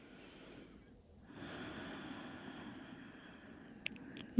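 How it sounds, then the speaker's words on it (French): Slow, calm breathing in and out through the nose with the mouth closed during a yoga stretch, one long soft exhale of airy hiss after a pause, ending in a brief sharp noise. "Où tu inspires par le nez, expire par le nez, bouche fermée."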